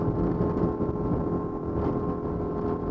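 A Cormate T28 sportsboat runs flat out at about 38 knots and 4,900 RPM, giving a loud, steady engine drone with hull and wind rush that stays constant and close throughout.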